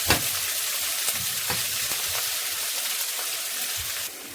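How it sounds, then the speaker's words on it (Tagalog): Onions sauté slowly in a pan at home, giving a soft, steady sizzle with occasional light clicks of stirring, close and fairly quiet with no voices. "igigisa ko lang siya ng dahan-dahan para hindi masunog yung sibuyas."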